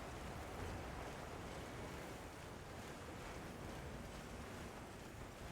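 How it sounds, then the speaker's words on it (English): Steady broadband water ambience with surf-like washing and a windy hiss, from the Monster Hunter Wilds game world, loud and continuous without a break and with no voices. "am I gonna go hard of hearing because of water sound ambience?"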